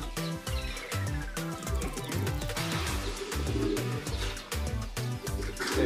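Soft pigeon cooing repeats in a low rhythmic pattern, close by, with a faint whistling tone sweeping down early on.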